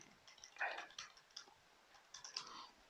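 Keys tapped on a computer keyboard while logging into an investment account, a quiet scatter of light clicks in short irregular bursts.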